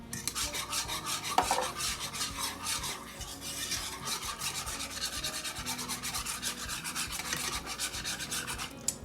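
Pepper is ground over a chicken dish in a rapid, steady rasping crunch of a grinder being twisted, close and continuous with no talking.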